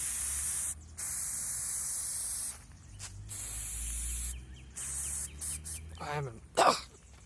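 A small pepper spray canister lets out several short hissing bursts of spray between quiet pauses, followed near the end by coughing and throat clearing.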